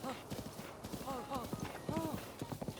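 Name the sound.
horse hooves clip-clopping in video game Breath of the Wild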